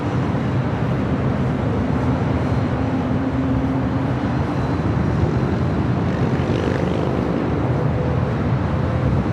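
A jet airliner departing LAX on runway 24 left makes a steady, loud broadband engine roar that holds for the whole stretch, with no voices over it.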